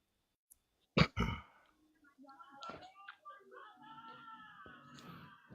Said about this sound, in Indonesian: Udah benerin dulu batukmu itu.